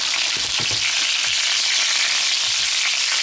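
Chicken pieces fry in a pan over high heat, giving a loud, steady sizzle with a few low knocks and scrapes near the start, for a slow-cooker Mississippi chicken recipe.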